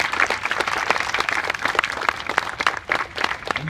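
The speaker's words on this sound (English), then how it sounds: "Now give them another big clap." A room full of people applauding, dense continuous clapping that holds steady for several seconds.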